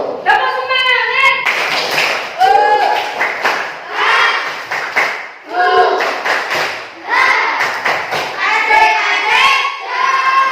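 Schoolchildren in a classroom perform a rhythmic clapping chant together, with loud bursts of claps interleaved with shouted group chanting over about ten seconds.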